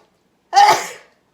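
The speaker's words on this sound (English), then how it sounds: "First, I'm going to sneeze." A single sharp sneeze bursts out after a moment of silence, then trails off quickly.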